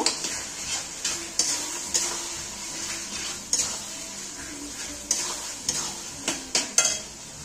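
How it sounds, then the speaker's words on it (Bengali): Spice paste for a Bengali mutton curry frying in a pot with potatoes nearby, a hissing sizzle punctuated by regular scraping, clinking strokes of a spoon against the metal pan, close and steady. "এবার ভালো করে কষিয়ে নেব।"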